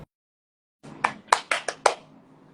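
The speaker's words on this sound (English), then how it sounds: "you guys laughing at my quick clapping?" Five quick, sharp hand claps in a fast burst after a brief silence, close and fairly quiet, each snap distinct with a faint murmur between them.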